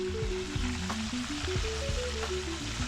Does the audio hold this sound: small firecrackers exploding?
no